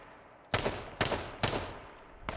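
Gunfire in the video game H1Z1: three sharp shots about half a second apart, then a fourth fainter one, loud and close, with no talk.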